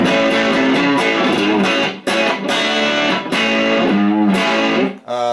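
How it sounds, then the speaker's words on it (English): An electric guitar plays through a Vox amp on its 1 watt setting, thick sustained chords and ringing notes filling the space loudly, with short breaks between phrases. "I'm going for the Vox amp. This is it, just pure amp."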